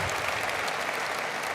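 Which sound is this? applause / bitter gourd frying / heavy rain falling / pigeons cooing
applause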